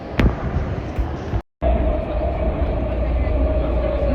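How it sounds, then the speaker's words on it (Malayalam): Steady rumble of a moving SkyTrain metro train heard while riding, with a continuous low roar, a faint whine and rattling, briefly cut out once before resuming. "നമ്മൾ സ്കൈ ട്രെയിൻ പിടിച്ചിട്ട് ഡൗൺ ടൗണിൽ പോകും"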